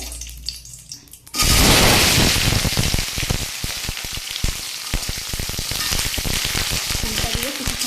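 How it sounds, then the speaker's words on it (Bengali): Flat beans tipped into hot mustard-seasoned oil in a pan, setting off a sudden loud, dense sizzle and crackle that stays strong and close for several seconds after a quiet start. "এবারে আমি এই যে সিমটা দিয়ে দেব।"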